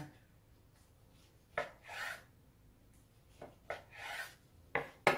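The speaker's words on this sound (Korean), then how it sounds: "김밥을 썰 때는 이렇게 톱질하듯이 칼이 앞뒤로 왔다 갔다 하는 식으로 썰어 줘야지 단면이 깨끗하게 나와요." A knife saws back and forth through a brown-rice and red-yeast-rice gimbap roll, giving several short, dry rasping strokes separated by pauses, close and fairly quiet.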